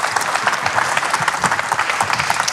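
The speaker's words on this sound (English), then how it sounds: "A big round of applause." Audience applause at a Bitcoin conference panel session in London, a dense, steady burst of many hands clapping throughout, fairly close and loud, with no talk over it.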